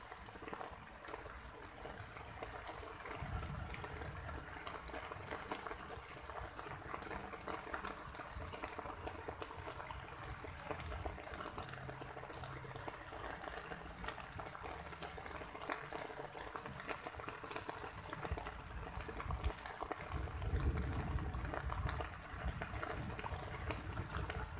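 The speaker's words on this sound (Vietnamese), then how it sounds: "Mưa rất chi là dã man." Heavy rain pours steadily and loudly, a dense continuous wash with no speech, heard outdoors at a fishing spot during a downpour.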